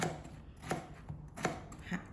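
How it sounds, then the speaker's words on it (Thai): A knife chops through soft luffa gourd on a board, with sharp thuds at a steady, unhurried pace, close up and clear, with no talking. "เรามาหั่นบวบกันก่อน"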